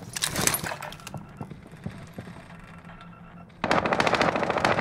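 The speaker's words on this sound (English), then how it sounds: "taking fire. Getting shot at." Rapid automatic gunfire bursts from the Call of Duty: Modern Warfare video game, loud at the start, thinning into scattered shots, then a dense close burst returning near the end.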